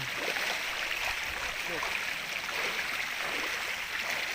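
Strong spring water gushes steadily out of bare rock at its source, a continuous broadband rushing wash, fairly near and unbroken throughout.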